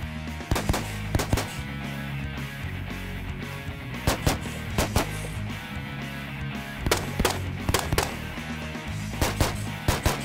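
A Stag Arms 3Gun rifle fired outdoors, sharp loud cracks in quick clusters of two and three shots spaced across the span, over a steady low background hum.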